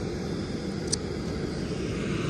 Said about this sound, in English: we're checking our blower motor. So it's on the A setting, which means it maxes out at like 7 volts of DC